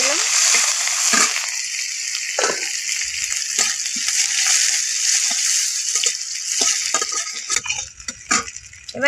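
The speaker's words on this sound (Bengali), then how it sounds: "লাল শাকটাকে ভেজে নিই, তার জন্য শুকনো লঙ্কা দিয়ে দিলাম।" Dried red chillies sizzle in hot oil in a pan before red amaranth greens go in, a continuous loud hiss with occasional scrapes and clinks of a spatula against the pan.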